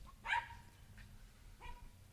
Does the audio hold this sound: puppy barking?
yes